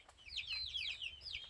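Gramapriya chickens at a backyard coop give a steady run of high, chirpy clucking calls, close and fairly loud with no voices over them.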